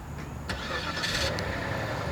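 A Cadillac engine starting by remote start, a short cranking burst followed by the engine catching and settling into a steady idle, close by and with no talking.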